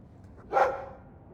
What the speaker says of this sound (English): I'm sick of what's-his-name staring and panting.